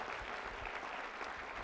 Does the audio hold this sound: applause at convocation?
yes